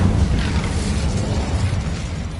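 Incendio fire spell cast in Hogwarts Legacy, a loud whooshing burst of flame that swells at once and then rumbles on as a steady roaring, crackling blaze.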